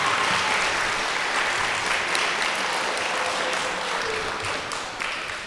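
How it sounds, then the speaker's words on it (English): Audience applause at a school gathering honoring a teacher: dense, sustained clapping from many hands that holds steady and tapers slightly near the end, with no talk over it. "Let's give a clap to Ms. Egan."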